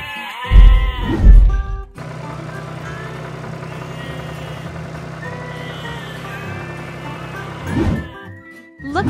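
Toy sheep bleat on a farm diorama, with a pair of loud, close bleats at the start and another at the end. A steady, toy-like musical jingle plays in between.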